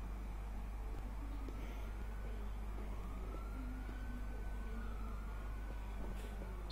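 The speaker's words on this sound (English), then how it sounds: "Let's cut sirens when we get close." A faint police siren wails in slow rising and falling sweeps under a steady low engine rumble, heard from inside a moving patrol car in a game responding to a hostage call.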